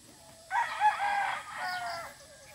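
A gamefarm rooster crows once, a single clear call lasting about a second and a half, heard fairly close against a quiet background.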